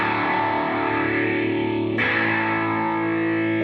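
Electric guitar played through a phaser with slow depth and a little overdrive added from a new pedal, a sustained, gritty, swirling tone that holds steady throughout with a brief change midway.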